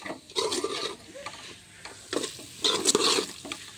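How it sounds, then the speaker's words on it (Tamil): Masala sautéing and being stirred in a home kitchen pan for Tamil-style kuzhambu, with a sizzle under repeated scraping strokes of a spoon, close and fairly loud, no talk. "நல்லா வதக்கிறேன், வதக்கிட்டு தான் தண்ணி சேர்த்துக்கணும்"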